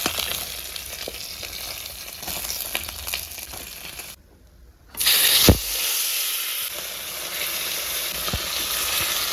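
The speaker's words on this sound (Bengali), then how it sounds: "না সব মাছ ভেজে নাও" Freshly caught pond fish fry in a pan of oil with a constant hissing sizzle that drops out briefly, then returns louder with a few sharp pops.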